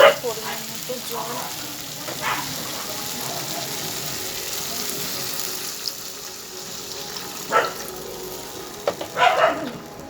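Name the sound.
water added to frying spice paste in oil, sizzling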